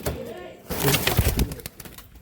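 A caged pigeon coos in a few short bursts, close by, mixed with scuffling and a brief flutter, while a voice speaks over it.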